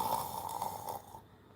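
A voice imitates snoring with a drawn-out, nasal snore that holds steady, then trails off into quiet, faint and isolated.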